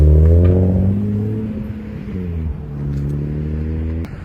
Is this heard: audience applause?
no